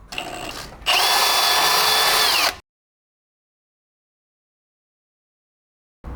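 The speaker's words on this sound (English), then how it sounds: "Just going to drill them both out and then put my nut and bolt." A power drill whines at high speed for about two seconds, drilling M10 pilot holes in a vehicle cradle for a bull bar fitting, loud and close, after a brief softer start, then abrupt silence.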